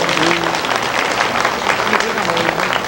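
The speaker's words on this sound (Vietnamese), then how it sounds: "Xin quý vị một tràng pháo tay để chào đón các vị quan khách của địa phương chúng ta." Applause from an audience welcoming local guests at an 11th-anniversary celebration for a Vietnamese radio station in Atlanta, Georgia: dense, steady clapping held at an even level for the whole stretch, with a faint voice underneath.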